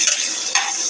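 Garlic and onion sizzle in a pan as they are stirred, giving a bright, close hiss with a brief surge of spitting partway through, loud and without talk.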